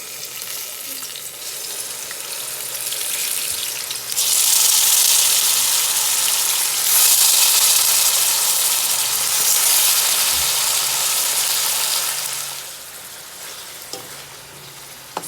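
Turkey wings sizzle and fry loudly in a hot pot while being stirred for turkey wing pelau, a steady hiss that swells and stays strong before easing near the end.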